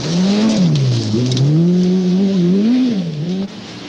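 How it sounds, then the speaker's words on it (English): A Toyota rally car races flat out on a special stage, its engine note loud and close, rising and falling as the driver works through the gears, with no voices. "On special stage 35, Kankkunen, co-driven by Britain's Fred Gallagher, catches and passes Eklund"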